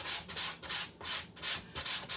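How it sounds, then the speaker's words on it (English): Sandpaper rubs back and forth along the grain of a wooden sign with a reverse-stencilled design, giving steady rhythmic scratchy strokes, close and fairly loud, with no talking. "Try to sand with the grain as much as possible there."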